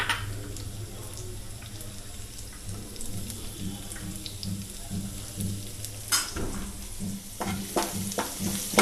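Chopped garlic frying in a pan of oil for restaurant-style paneer butter masala, giving a steady close sizzle with a low hum beneath and occasional stirring scrapes and clicks toward the end.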